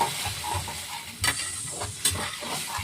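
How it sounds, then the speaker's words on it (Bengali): Spice masala cooks down in a pan, giving a soft continuous sizzle with a couple of brief clinks and scrapes from stirring, close and moderately quiet. "একটু মশলাটা কষানো হোক"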